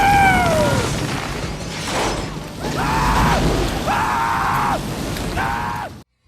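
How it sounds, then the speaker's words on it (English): A large passenger plane explodes in an action-film scene from Bad Boys, with a loud broad blast rolling into sustained roaring fire and debris, punctuated by several sharp bursts before cutting off abruptly. "The plane explosion."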